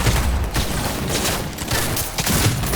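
Shotgun gunfire in the Cyberpunk 2077 video game: a dense, loud run of overlapping blasts and booms, fired in rapid succession across the whole stretch with no pause.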